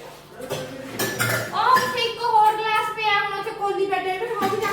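Dishes and pots clink and clatter during washing up at home, with frequent metallic knocks under a person talking.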